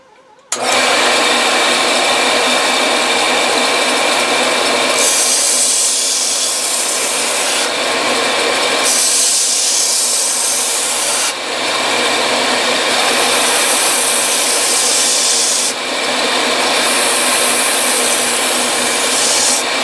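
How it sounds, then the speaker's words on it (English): A belt sander shapes the wood and rubber recoil pad of a custom HW30 air rifle stock with slack-side sanding, a loud continuous abrasive whir that shifts in pitch as pressure on the belt changes. "We're going to use slack side sanding."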